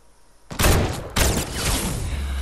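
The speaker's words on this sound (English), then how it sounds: "He sniped me." Two loud, sharp sniper rifle shots in Fortnite, roughly half a second apart, each ringing out with a long tail that fills the space between and after them.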